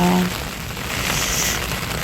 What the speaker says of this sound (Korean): 다시 또 장마가 와서 연일 비가 내리고 있어요